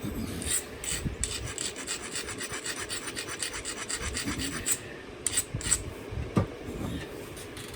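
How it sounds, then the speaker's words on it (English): Rough, rasping strokes of wood being ground smooth for a carved pine tree, a close, steady run of repeated scraping passes with a few brief pauses near the end. "I'm gonna grind this pretty hard. I want it to be real smooth."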